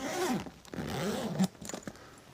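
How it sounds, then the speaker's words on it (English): A zipper case is pulled closed in a few quick rasping strokes, close and fairly loud, with short pauses between pulls. "and close it up, zipper it."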